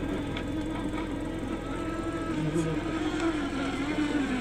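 An FSR-V-15 class model racing boat's small engine at a race on a pond in Penza, a continuous buzzing drone with wavering pitch, heard at a distance under background noise.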